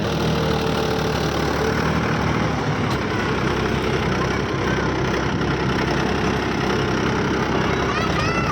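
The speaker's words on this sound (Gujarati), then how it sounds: "ટ્રેક્ટરે આવી ગયું છે ભાઈ તો ફાઇનલ જો ટ્રેક્ટરે આવી ગયું છે" Loud, steady engine idling with a constant low rumble and rattle, close by, with faint voices underneath.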